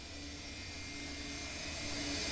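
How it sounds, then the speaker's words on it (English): An MD80 airliner in the X-Plane 11 flight simulator passes by, a continuous broadband jet roar that builds slightly toward the end, with no talking. "Watch this airplane fly by."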